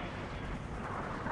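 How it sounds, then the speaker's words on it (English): A Trinity rocket blast in a first-person shooter video game: a dense, sustained roaring explosion rumble filling the whole moment, loud and continuous without distinct separate hits. "Friendly Trinity rocket inbound."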